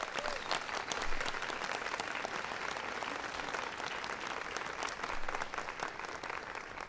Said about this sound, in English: please give them a big round of applause as well